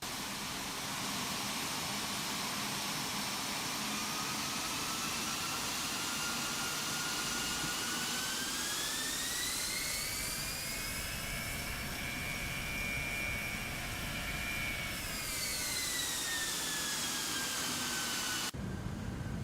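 Jet engines of an IXEG 737 in an X-Plane 12 flight simulator, heard from outside, spool up to takeoff power as a steady loud roar whose rising whine climbs and then holds, alone without voices.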